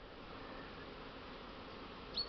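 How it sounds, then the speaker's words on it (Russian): Honeybees fly around their hives on a damp, overcast autumn afternoon, a faint, steady buzzing drone heard from close by throughout, with one brief louder buzz as a bee passes near the end. "Здесь вот пчелы летают."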